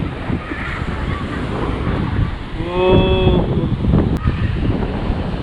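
Sea waves wash onto a black sand beach in a steady, loud broadband roar mixed with gusty wind buffeting the microphone, and a man briefly exclaims partway through.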